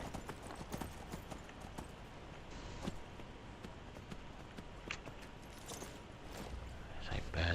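Horse hooves clip-clopping at a run in the video game Skyrim, a steady rhythmic patter of many quick hoof strikes under a quiet game ambience, with someone talking over it.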